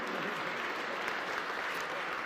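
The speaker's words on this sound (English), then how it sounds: "You can clap for energy we don't use." An indoor audience at a clean energy bill signing in Detroit claps steadily and evenly, with dense, moderately loud applause filling the whole span.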